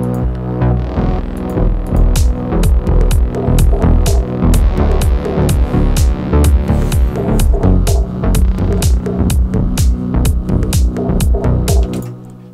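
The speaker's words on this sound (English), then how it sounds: "It's my Moog synthesizer." A Moog synthesizer melody of rapid, evenly spaced notes with a bright, punchy attack and steady rhythm, played loud with no voices.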